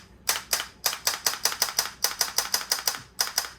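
A GUN4IR light gun's recoil solenoid, triggered from its software tester, fires a run of sharp, loud mechanical clacks. They come in quick rhythmic bursts with short pauses between groups.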